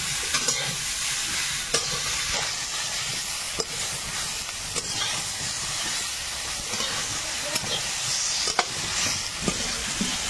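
Pumpkin, elephant foot yam and taro fry in a pan, giving a steady close sizzle and hiss with scattered clicks as the pieces are stirred, and no talking.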